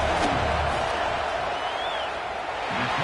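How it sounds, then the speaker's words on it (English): A packed college football stadium crowd at a Northwestern–Penn State game roars to rattle the kicker before a fourth-down field goal attempt, a dense, steady wall of noise that holds loud and unbroken for the full three seconds. "This crowd trying to do its part to get inside the kicker's head."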